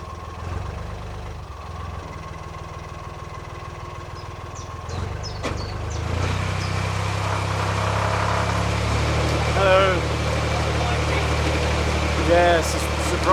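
Narrowboat engines rumble steadily as two boats pass nearby through a canal bridge, growing louder partway through, with people talking over the chugging drone.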